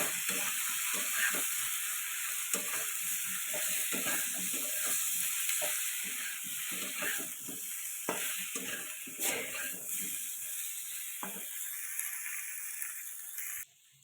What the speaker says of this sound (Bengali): আর এই যে জল ঢেলে দিচ্ছি, পাতলা ঝোল হবে।